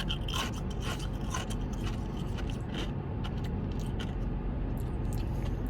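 Close, crunchy chewing of Chick-fil-A nugget ice, repeated gritty crunches and grinding bites in an irregular rhythm over a low rumbling background.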